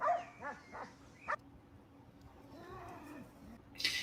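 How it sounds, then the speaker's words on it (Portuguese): An agitated dog in training whimpers in high, wavering cries and lets out a few short barks, the sounds coming in bursts with pauses between and a sharp yelp near the end. "às vezes o cão estava a vários metros e ele ficava transtornado"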